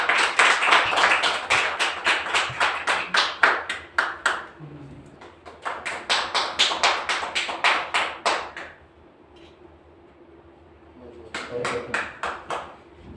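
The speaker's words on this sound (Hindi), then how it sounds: "जोरदार तालियों से इनका स्वागत करें" Bursts of hand clapping at a Hindi poetry gathering as a poet is welcomed on stage, loud rounds that fade out mid-clip and then pick up again near the end.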